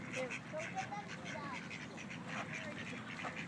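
Ducks quack in a busy, overlapping chatter at the edge of Lake Murray while being fed, the calls close and continuous with faint voices in the background.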